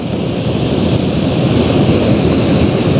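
The Indravati river spills over a waterfall set among dense forest on the Vindhya range, producing a loud, continuous broadband roar of falling water, steady and close, with some wind rumble.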